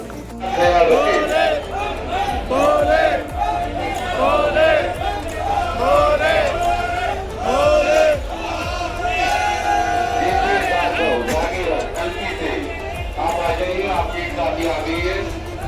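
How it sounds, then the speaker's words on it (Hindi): Crowd of pilgrims at Chandanwari on the Amarnath Yatra, a busy mass of voices and chatter with footsteps and movement, loud and continuous with someone talking over it nearby. "यहाँ पे देखो कितनी भीड़ है।"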